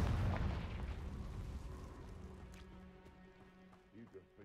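A fiery spell explosion in Hogwarts Legacy: a deep booming blast that fades over a few seconds into a low rumbling tail, followed by a couple of small pops and crackles.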